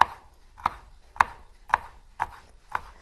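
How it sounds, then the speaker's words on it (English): Vegetables for an Italian salad being sliced with a knife on a cutting board: six crisp, evenly spaced chops about half a second apart, close and clear with no talking. "I'm just going to slice these."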